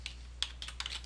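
Quick keystrokes on a computer keyboard while entering an SQL search in old software: a short, close burst of several crisp taps.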